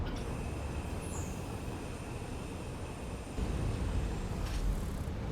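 Freight train running on a railway in Satisfactory: a steady, dense rumble of wheels and engine with a faint high whine, swelling slightly louder partway through.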